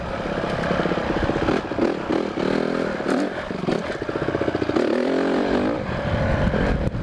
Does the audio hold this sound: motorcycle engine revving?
yes